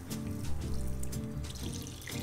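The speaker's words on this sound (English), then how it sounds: "And then pour your butter through" Melted clarified butter (ghee) pours through a cheesecloth-lined strainer in a kitchen, giving a steady, moderately loud liquid trickle with small splashes and no speech.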